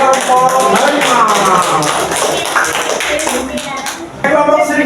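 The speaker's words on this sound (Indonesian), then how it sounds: "Tepuk tangan buat kelompok harimau" Loud, sustained clapping from a junior high school class fills the room, with voices mixed in throughout and a fresh burst near the end.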